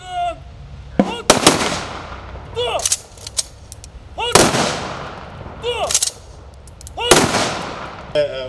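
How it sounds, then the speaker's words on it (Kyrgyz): Three volleys of rifle fire for a memorial salute at a ceremony marking the Batken events, sharp cracks with echoing tails at roughly three-second intervals, outdoors and loud, with some crowd sound between shots. "3 жолку залп менен ок атылды."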